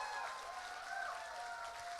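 Fairly faint, steady applause from a convention audience at a Hal-Con 2013 Q&A session, continuous clapping with a light crowd murmur and no clear voices on top.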